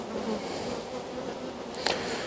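Honey bees buzz around an open beehive in an apiary, a soft, continuous drone close by with no one speaking.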